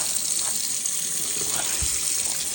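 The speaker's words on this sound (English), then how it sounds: "squeeze the old water out" Wet Levi's Barstow shirt being squeezed so dyed water runs out, a steady close splashing and trickling of water with soft irregular spatters.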